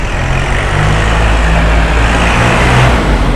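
A used Kubota L3608SP tractor engine revs steadily and loud, a low rumbling drone with a faint whine riding on top, heard alone without talk.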